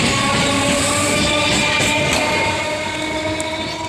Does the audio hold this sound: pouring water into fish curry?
no